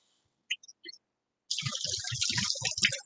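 Water drips and then runs in a gurgling, uneven patter as freshly washed lettuce drains in a kitchen, close and moderately loud, after a few faint droplets.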